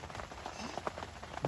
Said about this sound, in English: But so far, it's just the rain.